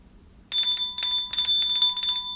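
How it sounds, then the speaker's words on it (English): A bright metallic bell rings in four quick bursts of trills, loud and close against a quiet background, marking a baseball trading card pull from a 2020 Donruss pack. "Bell ring for Donald."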